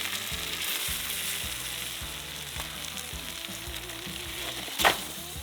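Fat renders and fries in a pan over a camp stove or fire in a remote canyon, giving a steady broadband sizzle with bursts of crackle, a louder pop near the end, and low thumps underneath, with no voices.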